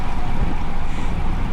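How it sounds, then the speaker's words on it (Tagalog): Strong wind buffets the microphone during a group bicycle ride, a loud, constant low roar with gusty fluctuations and no voices. "Grabe yung hangin."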